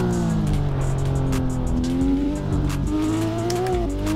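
Ken Block's Hoonipigasus Porsche, an all-wheel-drive race car driven in Assetto Corsa on a hill-climb course, revs with a steady, loud engine drone that rises and shifts pitch, with tire squeal, alone and continuous.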